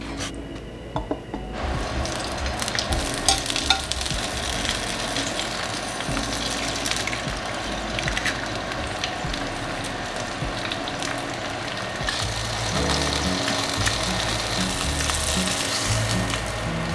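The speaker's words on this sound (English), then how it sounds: "My sausages. And ready to go fry them up." Sausages fry in a pan with a steady close sizzle and spatter, running continuously and growing slightly fuller toward the end, with occasional light scrapes and no voices.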